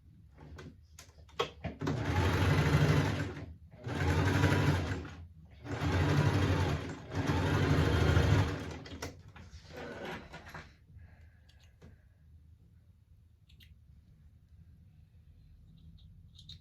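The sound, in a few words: sewing machine stitching a small fabric basket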